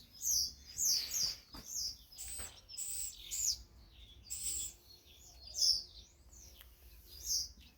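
A small bird repeats bright, high chirping calls in a garden with cherry trees in bloom and chickens and rabbits nearby, each call short and clear at a steady pace, fairly close, with no talking.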